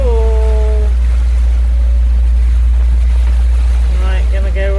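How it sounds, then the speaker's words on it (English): Squall wind buffeting a sailboat at sea on passage from Aruba to Panama, a loud continuous roar with deep low rumble throughout and faint tonal whines near the start and end. "With the squall coming, the wind picks up."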